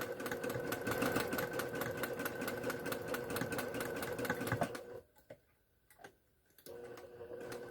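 A sewing machine stitches in a fast, steady mechanical rhythm, pauses briefly, then starts running again.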